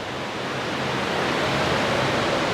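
Steady broadband rush of a waterfall in the Kurdish mountains near the Iraq-Iran border, by a touristy hotel area, loud and continuous with no voices.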